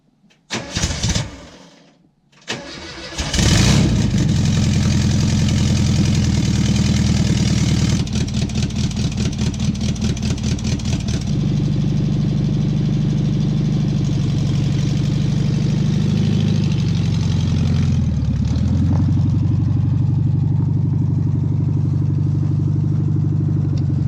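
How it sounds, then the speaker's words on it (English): Volkswagen Beetle that sat for decades in the woods buried in snow, cranking in a few short bursts before catching on a cold start, then settling into a loud, steady, rough idle close by. "Cold start."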